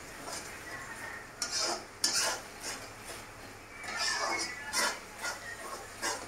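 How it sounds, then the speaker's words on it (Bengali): Saffron chicken with tomato is stirred and sautéed in a pan, with a spoon scraping and clinking against the metal in repeated strokes over a soft, steady sizzle. "এইভাবে কন্টিনিউ নেড়ে নেড়ে কষাতে হবে।"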